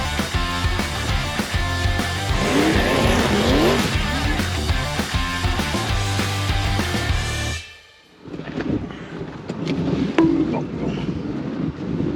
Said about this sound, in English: So now we're going to take that gorgeous 1968 Triumph TR250